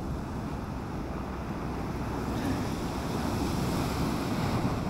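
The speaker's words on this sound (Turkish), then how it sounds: "Deniz fazla dalgalı arkadaşlar." Rough, choppy sea off the Giresun coast near a fishing boat, continuous crashing and washing waves with heavy wind buffeting the microphone, loud and steady throughout.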